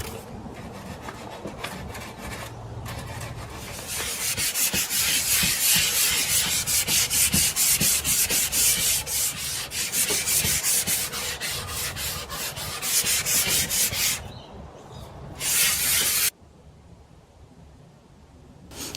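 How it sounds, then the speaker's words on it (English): A fine sanding block rubs back bled-through paint on a painted wooden drawer before whitewashing, giving a continuous gritty rasp with quick back-and-forth strokes, steady and close, pausing briefly near the end. "first I'm just going to sand back any paint that's bled through the tape there."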